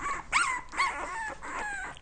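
A box of newborn puppies in a parents' bedroom yipping and whimpering in a few short high-pitched bursts, close and moderately loud, with no talk.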